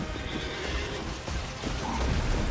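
A horse neighs in the Elden Ring video game as a Horse Knight gives chase, its whinny rising over steady, noisy action with hoof clatter and combat rumble.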